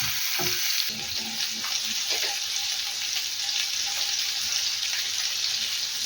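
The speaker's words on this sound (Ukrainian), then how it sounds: "Ставлю на сковорідку розігріту цибуля, підсмажується." Onion and carrot fry in a hot pan, a loud steady sizzle with a few brief clinks and stirring scrapes near the start, close up and with no talking.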